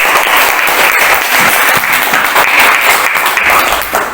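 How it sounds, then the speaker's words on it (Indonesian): Classroom applause for a student: a dense, steady burst of many hands clapping together, loud and close, lasting the whole stretch with no talk over it. "kita beri aplaus untuk"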